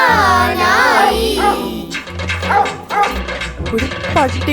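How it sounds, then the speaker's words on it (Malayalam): A dog yips and whimpers in a high, wavering voice close by, then gives rough barks mixed with loud, chaotic noise during a Christmas carol scene. "ഒരു പട്ടിയുടെ പോലെയല്ലേ കേട്ടത്?"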